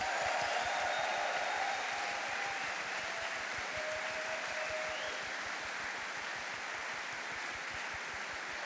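Audience applause and cheering welcome one of the members of a country music duo at a convention opening ceremony; dense, steady clapping fills the whole stretch at even loudness, with a faint tonal whistle-like line drifting through early on.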